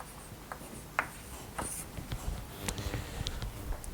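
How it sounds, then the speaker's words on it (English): A pen or chalk writes out a lemma on a board during a mathematics lecture, giving soft, faint scratching and tapping strokes at an irregular pace in a quiet room. "let me write down the lemma"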